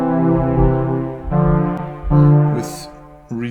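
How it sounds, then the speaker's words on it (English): A big, brassy synthesizer tone playing several sustained notes, rich and buzzy, with a breathy noise burst near the end. "That's a big brassy sound."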